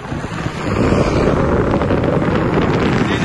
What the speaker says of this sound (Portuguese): E a gente tá pegando muito vento.